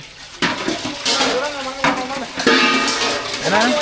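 Large metal cooking pots and vessels used to cook for sixty or seventy people, clanking and scraping loudly as they are handled and knocked together, with repeated metallic strikes and a voice speaking between them.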